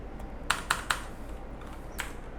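Keyboard shortcuts tapped on a computer keyboard in a quiet room: three quick, crisp keystrokes in a row, then a single faint key press a moment later.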